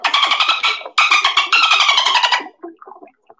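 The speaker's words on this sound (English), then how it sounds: "This is what a dolphin sounds like." A dolphin gives rapid trains of squeaky, pulsed whistles, two long bright bursts followed by a few scattered short chirps, close and loud.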